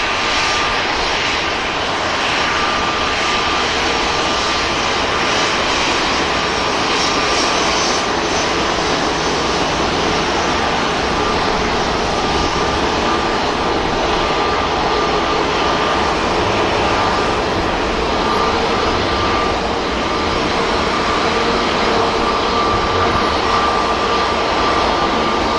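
A Qatar Airways airliner climbs out of Manchester Airport with a loud, continuous jet engine roar. The roar holds steady and dense for the whole stretch, with no voices.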